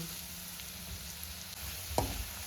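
Bitter gourd stir-fry, seasoned with salt and chili, fries with a faint steady sizzle in a pan, and a single clear scrape of stirring comes near the end.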